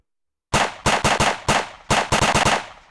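A sharp volley of staged gunshot effects bursts out after a moment of silence, about a dozen loud, close cracks fired in quick irregular clusters, each with a short decaying tail.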